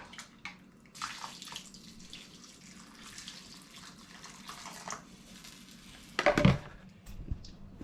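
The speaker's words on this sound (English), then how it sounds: "Then we add our 500 mils of beef lamb stock." Beef and lamb stock pours into a cooking pot in a soft liquid stream, with faint splashing and a louder burst of pouring and clinking near the end.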